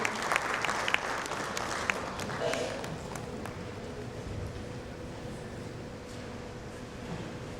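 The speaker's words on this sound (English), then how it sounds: "A big round of applause for Deepu." Audience applause at a panel event at the India CX Summit & Awards 2022, dense clapping at first that gradually fades to a softer patter over a low room hum.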